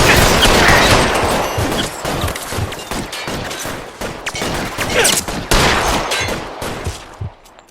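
A shootout in the video game L.A. Noire, with dense, continuous gunfire of rapid overlapping shots and bursts that stays loud and close for several seconds before thinning out at the end.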